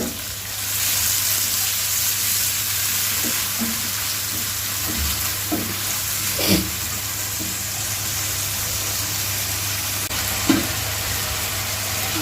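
Onions frying in hot oil for a village-style Bangladeshi eggplant chorchori, a steady close sizzle running throughout with a few soft stirring clinks and scrapes, no talk.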